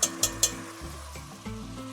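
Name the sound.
tomato paste frying in a pan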